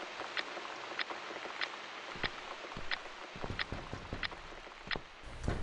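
Repeated knocks on a door in The Cat Lady video game, a steady series of sharp raps spaced about half a second apart over a quiet, rainy-sounding background, with no voices.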